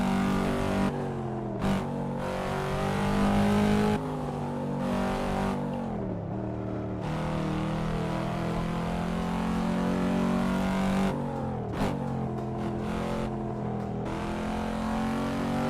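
Car engine in the PC racing game Assetto Corsa drones steadily through gear changes, with repeated rev climbs, sharp shift drops and sustained high-pitched acceleration, loud and continuous with no talking.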